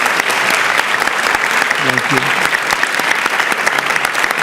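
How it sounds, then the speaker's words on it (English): Dense, sustained audience applause after a lecture, a steady wash of many hands clapping close and loud, with a brief spoken word buried in it. "lots of thanks and a warm round of applause for you"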